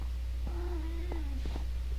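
A kitten gives a single drawn-out meow, close and fairly quiet, with a couple of soft chirps after it over a steady low hum.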